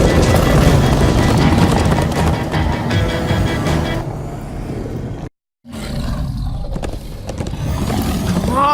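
Horses galloping in the Minecraft Story Mode video game, a loud rumbling run of hooves mixed with roaring game effects that drops out briefly midway and then resumes.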